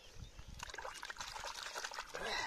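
Pond water trickles and sloshes close by as a light is swished back and forth in it during village crab hunting, quiet and irregular.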